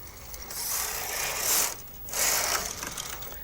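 The carriage of a Brother KH-950 electronic knitting machine sliding across a row, giving two close, loud mechanical rasping, whirring passes with a brief dip between them and no talk.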